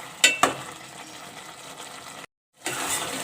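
Potato and eggplant curry with green chillies fries in a pan under a steady close sizzle, with two sharp utensil clinks early on and a brief break in the sound.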